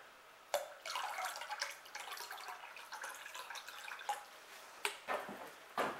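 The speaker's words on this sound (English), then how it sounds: "I have 40 ounces of water, so I'm going to put 4 ounces of acid in here." Muriatic acid being poured into water to make a carburetor cleaning bath for a 1966 Chevy C20, a quiet trickling pour with a few sharp splashes and drips, close up and alone.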